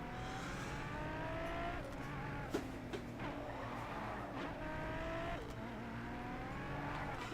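A race car spinning out in the GRiD racing game: a high engine whine rising and falling, with tire squeal and a couple of sharp knocks, all steady and fairly quiet.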